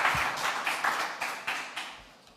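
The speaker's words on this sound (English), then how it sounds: "Please give another round of applause for Gabriel." A small crowd claps at a workshop session, with a handful of rhythmic, uneven bursts of hand claps that fade out over a couple of seconds.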